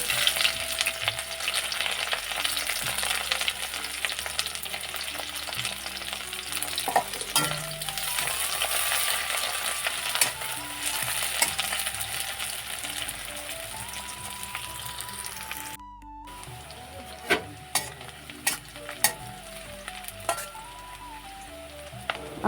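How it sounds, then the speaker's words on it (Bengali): Chopped onions hit hot oil for a chicken chorchori, giving a steady, close sizzle and crackle of frying with occasional stirring scrapes throughout, no voices. "আমার তেলটা গরম হয়ে গেছে, এখন আমি কুচি করে নেওয়া পেঁয়াজটা দিয়ে দিচ্ছি।"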